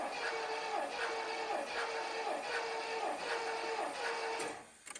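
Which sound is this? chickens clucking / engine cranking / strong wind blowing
engine cranking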